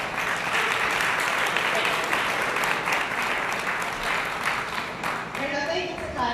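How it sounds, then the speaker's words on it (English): A crowd claps steadily in sustained applause, and near the end a voice begins speaking over the fading clapping. "Please give her a round of applause."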